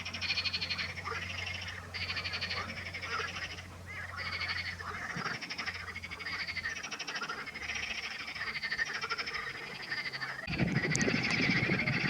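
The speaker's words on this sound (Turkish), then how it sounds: "Şu ses çok güzel arkadaşlar ya. Kurbağaların sesleri." A chorus of frogs croaking in rapid, pulsing trills, with a louder burst of rustling and noise near the end.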